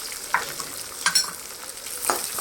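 Finely chopped onion sautés in a pan, a soft, close sizzle broken by a few sharp spatula scrapes and stirring clicks, with no speech.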